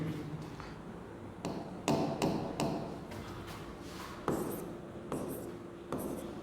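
Marker or chalk strokes on a classroom board during a physics lesson, a series of short taps and scratchy strokes in an uneven rhythm, fairly close and moderately quiet, with no talk over them.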